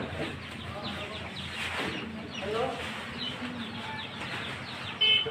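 Chickens and chicks bought at a shop cluck and cheep continuously close by, with busy overlapping calls and some background noise.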